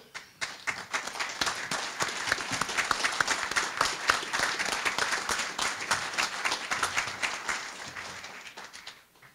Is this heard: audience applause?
yes